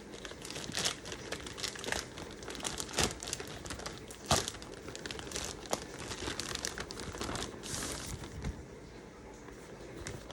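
An envelope of property papers from a condominium developer is opened by hand: close, quiet paper crinkling and rustling with scattered sharper tears and crackles throughout.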